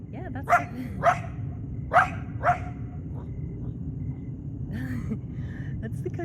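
A coyote in West Los Angeles barks four times in quick succession, moderately loud, over a low steady background rumble, with a few fainter yips afterward.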